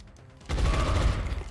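A big gun firing in the XCOM Long War video game, a loud burst of rapid gunfire that erupts after a quiet moment and rattles on to the end.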